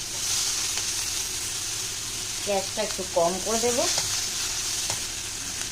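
Chopped onions sizzle steadily in leftover oil from frying bhola fish, with a voice speaking partway through over the constant frying hiss.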